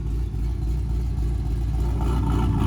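A supercharged car engine revved up from idle, a dense low droning rumble that swells and holds steady over a couple of seconds, close and loud with no voices.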